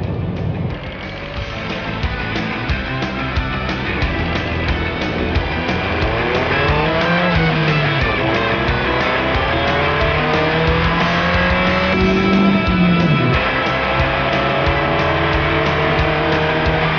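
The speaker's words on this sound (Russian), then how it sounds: "С места с дикой пробуксовкой" 1995 Opel Omega B with a 2-litre X20XEV engine and manual gearbox pulling away hard with heavy wheelspin, loud revving engine climbing through gears while tires squeal and skid, sustained and close throughout.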